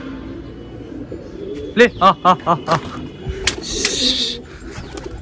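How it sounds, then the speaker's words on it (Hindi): Soft racing-pigeon coos on a rooftop repeat in a quick series of about five low, rounded calls, with a voice talking nearby and a brief chirp afterward. "दोस्तों एक कबूतर हमारा आ गया"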